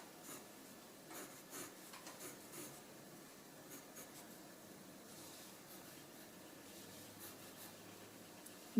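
Pencil scratching and rubbing across paper while sketching the crease lines of a hand, a soft close-up rasp in short repeated strokes with no talking.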